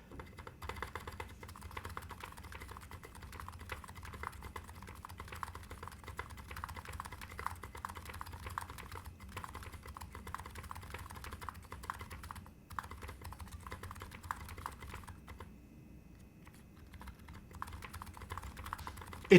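Steady typing on an electro capacitive keyboard fitted with SA keycaps, a continuous run of close, fairly soft keystrokes with a brief lull near the end and no talking.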